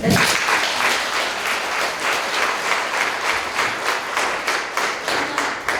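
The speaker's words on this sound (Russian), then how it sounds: "Если это так, то, пожалуйста, аплодисменты" Festival audience applause, loud and close, with dense clapping that falls into a rhythmic, pulsing beat as the crowd claps together.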